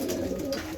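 A racing pigeon coos in a loft, its low throaty murmur continuous and close throughout, with no talking.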